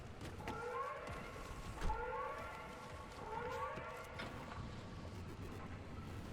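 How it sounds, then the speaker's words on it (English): Storm siren in the video game Pacific Drive: a distant wailing siren rising and falling in repeated sweeps over a low rumbling drone, with no voices. "Good old storm siren."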